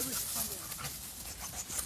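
Dogs playing and panting close by on a horseback trail ride, with quick breathy huffs and scuffling over a noisy outdoor background while people talk.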